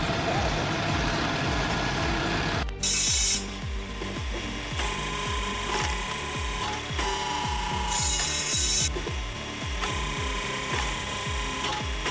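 A circular saw repeatedly biting into logs over a running engine drone on a firewood processor, with rhythmic cutting strokes and brief higher whines as each cut finishes.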